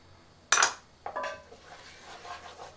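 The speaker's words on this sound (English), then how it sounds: "And we're going to stir that for about a minute." Spoon clinking against a pot while cumin and coriander are stirred in for spiced tomato soup: two sharp close metallic knocks followed by softer scraping.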